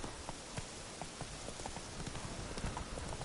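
Hooves of Roach, the horse in the video game The Witcher, drum quickly in a running clip-clop over a dense, hissing background, quiet and steady throughout.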